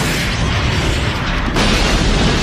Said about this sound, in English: complete with extra explosions